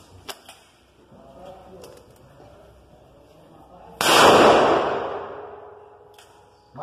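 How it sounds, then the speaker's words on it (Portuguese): A Smith & Wesson 500 revolver firing one full-power .500 S&W Magnum round single-action, a single loud blast with a long ringing, echoing tail, preceded by a couple of faint clicks and quiet talk. "Vamos aos disparos."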